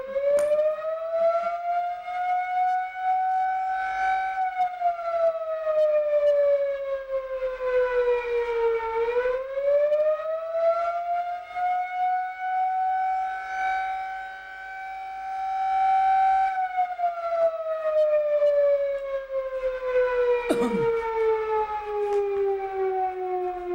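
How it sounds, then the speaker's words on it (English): A fire department civil defense siren wails loud and long for over twenty seconds, its tone rising and falling in slow sweeps, with faint room sounds beneath. "that was a fire department siren"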